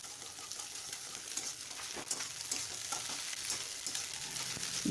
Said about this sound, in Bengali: এই তেলের মধ্যে ডিম ফাটিয়ে দিয়ে দিলাম। খুব ভালো করে নেড়েচেড়ে একদম ঝুরঝুরে করে ভেজে নেব।